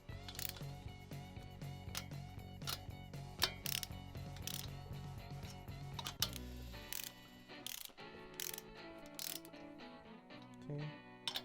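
Ratchet wrench clicking as bolts are torqued in a crisscross pattern on a 1776cc VW engine build with dual Webers, quick close ratcheting bursts repeating over a mechanical background, with no talk.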